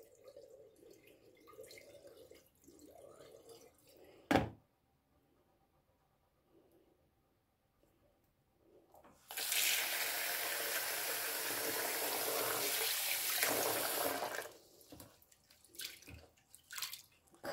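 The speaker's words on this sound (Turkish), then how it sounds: "Bir su bardağı kadar pirinç koydum ben. Şöyle güzelce yıkıyorum." Rice rinsed under a running kitchen tap: a steady, close splash of water pouring for about five seconds, framed by a few soft clinks and small handling sounds before and after.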